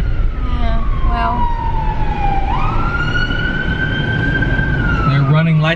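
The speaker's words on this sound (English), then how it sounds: "there's an ambulance here I need to get out of the way for" A loud wailing ambulance siren sweeps down and up in pitch as it passes close by over rumbling traffic noise.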